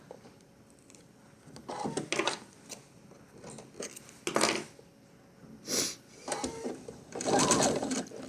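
A sewing machine stitches a seam on a fabric coin purse in short, quiet whirring bursts separated by pauses, with faint handling noises between runs.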